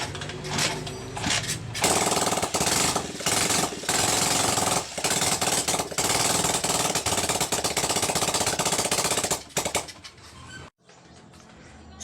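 A Honda TMX155 motorcycle engine, freshly converted to CDI ignition, runs at a loud, steady rapid idle with dense mechanical clatter, briefly dropping away near the end before restarting.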